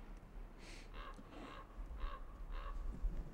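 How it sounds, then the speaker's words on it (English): A raven calling outdoors, five hoarse croaks spaced about half a second apart, faint and somewhat distant over low background rumble. "Oh, listen to that raven."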